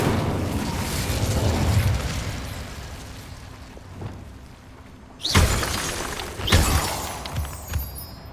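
Incendio fire spell cast in Hogwarts Legacy: a loud burst with a crackling, shattering whoosh, followed by a second fiery blast and fading crackles after a rumbling ambient stretch.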